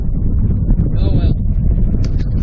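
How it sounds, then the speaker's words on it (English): Strong wind buffeting a microphone out on Lake Champlain during bass fishing, a loud continuous low rumble with gusty fluctuations and no clear pauses. "it is really windy out here"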